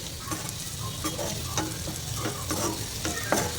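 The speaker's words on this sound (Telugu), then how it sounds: "ఇప్పుడు దీన్ని మొత్తాన్ని ఒకసారి కలుపుకుందాం" Bitter gourd slices being stirred and fried in oil in a frying pan, with a steady sizzle and repeated scraping strokes of a spatula, close and continuous, no voices.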